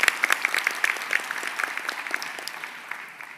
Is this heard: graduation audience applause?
yes